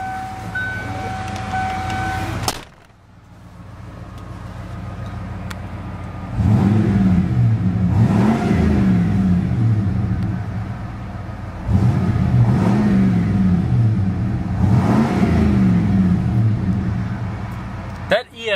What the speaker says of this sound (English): That EFI 5-liter V8 already has a fantastic exhaust note stock.